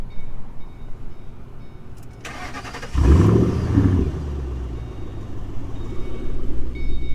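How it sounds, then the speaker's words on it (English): A 2006 Mustang GT V8 engine with a cold air intake and tune cranks with a brief starter whir, then catches and roars to life with a rising rev before settling into a deep, rumbling idle. "let's start her up, and you guys tell me if you guys can hear a difference"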